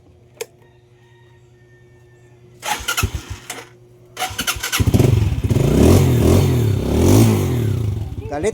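After a few cranking attempts, a misfiring motorcycle engine that had trouble starting catches and settles into a loud, throbbing rev close by.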